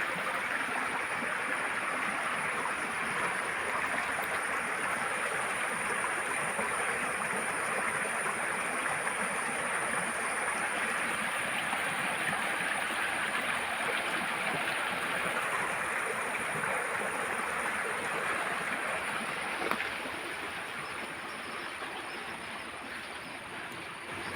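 Water rushing through a flooded plantation, a steady broadband roar like a strong stream running unbroken throughout and fairly close, with no voices over it.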